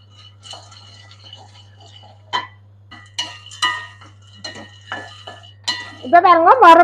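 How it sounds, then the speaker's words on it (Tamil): Peanuts dry-roasting in a pan, stirred with a metal utensil, giving scattered clinks and scrapes, with soft talk in between and a louder vibrating hum at the end. "இப்ப நான் ஒரு கப் கச்சான வறுத்து எடுத்துக்கொள்ள போறேன்"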